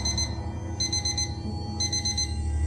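An alarm clock rings in the video game Lullaby for an Electric Toaster, giving repeated bursts of high electronic beeping over a constant low hum, loud and close.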